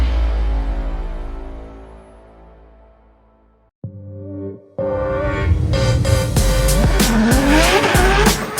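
A race car engine fades away into near silence, then returns loud and close with sharp, repeated tire squeals and skidding as it drives hard around the track.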